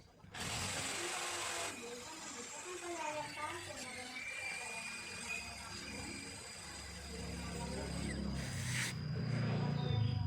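A power drill whirs steadily for several seconds, its pitch wavering as it bites in, with a brief louder burst near the end, drilling a hole for a sliding door.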